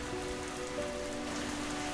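Steady rain falls on a surface as a soft, even patter, faint and continuous, with a low humming drone underneath and no voices.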